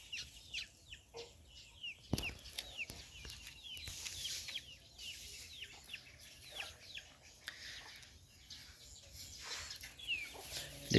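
Chickens cluck and call repeatedly around a morning peanut harvest on a farm, a busy layer of close and distant fowl sounds with scattered bird chirps and occasional knocks.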